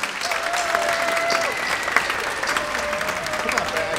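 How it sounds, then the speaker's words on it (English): An audience applauds at a celebration-of-music concert at the Mondavi center, with dense sustained clapping that fills the hall and a faint tonal sound running beneath it. "let's give a big round of applause for yourselves."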